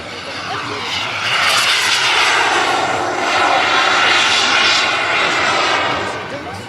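Rafale fighter jets at the Challes 2012 air show make a loud, steady roar that swells and fades slightly as they pass. Some speech is faintly mixed into the noise.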